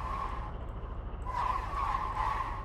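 Vehicle brakes skid in the Brick Rigs video game as a truck hauling a train descends a canyon, giving a sustained tire squeal that rises and wavers for over a second over a constant low engine drone.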